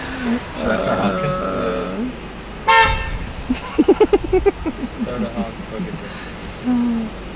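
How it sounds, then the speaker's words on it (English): A car horn honks on a street in Santo Domingo near the historic area, first a longer blare and then a quick run of short toots, close by, while people talk over and between the blasts. "Let's see if he honks again."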